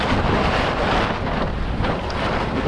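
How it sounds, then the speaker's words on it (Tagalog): Strong wind buffets the microphone at a motorcycle camping site in Lobo, Batangas, a loud continuous roar with steady gusting and no pauses throughout. "Ang lakas ng hangin dito."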